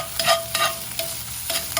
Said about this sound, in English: Now, let it sear around for a little bit.